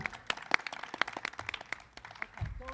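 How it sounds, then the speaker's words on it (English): Sparse clapping from a small audience at a Western States 100 ultramarathon pre-show, with distinct individual claps scattered irregularly rather than a full ovation, fairly quiet and near. "Give him one more big round of applause"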